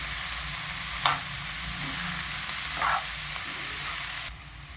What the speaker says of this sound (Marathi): हे सगळं मी एकदम मोठ्या गॅसवर शिजवलं आहे